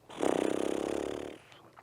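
A storyteller's voice imitates a sleeping dragon snoring, one long drawn-out rumbling snore with a rattling buzz, close and fairly loud, then a short breathy trail.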